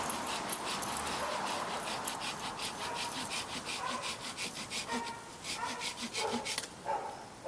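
A handsaw cuts through thick tree branches in a series of quick rhythmic rasping strokes close by, while a dog whimpers and barks in the background.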